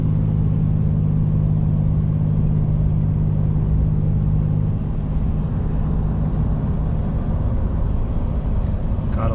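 A Ram pickup truck tows a trailer at a steady 56 mph on the highway, giving a continuous loud low road and engine rumble that stays even throughout, with no talking.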